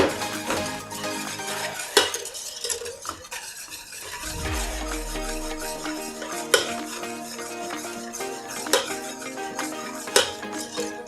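Chocolate glaze with drops of vanilla essence being stirred in a pot over low heat, a continuous scraping swirl with periodic sharp utensil clinks against the metal rim and no talk.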